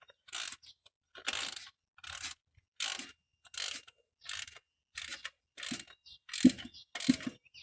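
A Craftsman quarter-inch ratchet on a 6-inch extension, working on a 1992 K1500 distributor, clicks in about eleven evenly spaced bursts of close, dry ratcheting, with a few sharper knocks near the end and no talking.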